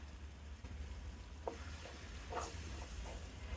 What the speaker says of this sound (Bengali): আরো কিছুক্ষণ আমি কষিয়ে নেব।